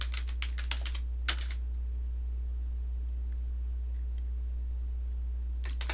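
Typing on a computer keyboard, a quick cluster of key clicks near the start, one sharper tap, then quiet hum before a few more keystrokes at the end; no talking.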